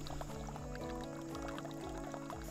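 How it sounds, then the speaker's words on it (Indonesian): Water from a waterfall in Sarawak pours and splashes steadily down rocks, a continuous rushing flow with no talking. "Bunyilah air mengalir daripada atas sampai ke bawah."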